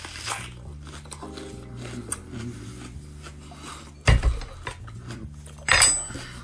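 Two sharp crunchy bites into a raw onion, loud and close, separated by about a second and a half, following a stretch of quiet handling noise and faint background hum.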